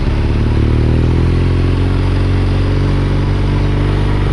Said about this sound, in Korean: 에이 저 오토바이 진짜